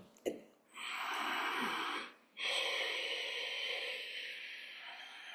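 Two long, raspy ujjayi breaths taken with the mouth closed, with a hushed ocean-like hiss, separated by short gaps, fairly close and steady.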